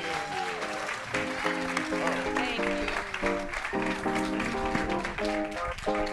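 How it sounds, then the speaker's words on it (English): Applause for guests at a live evening talk event, clapping carried along under loud music with a steady beat and melody, the crowd sounding moderately near and mixed beneath the band. "give our guests a round of applause"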